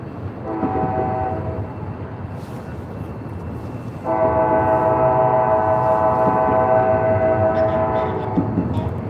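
A northbound freight train passes trackside with a rumbling roll while its horn sounds loud and close, a chord that steps up in strength midway and holds over the rail noise, with faint voices under it.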